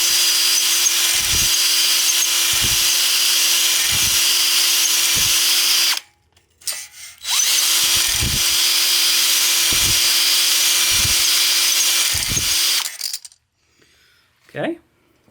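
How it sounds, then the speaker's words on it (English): A power drill spins a cylinder hone in the bores of a Ford 172 diesel engine in two long runs, its steady whir broken by regular knocking strokes, with a short pause between and a brief squeak at the end. "We're going to spin the drill and then just go up and down with it."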